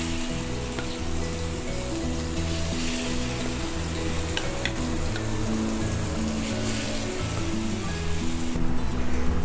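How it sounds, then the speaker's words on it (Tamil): Marinated elephant foot yam pieces fry in oil on an iron dosa tawa, making a continuous dense sizzle with occasional light clicks and taps over a low hum. "இப்போ நம்ம மேரினேட் பண்ண சேனைக்கிழங்கு 1 by 1 நம்ம ஆட் பண்ணிடலாம்."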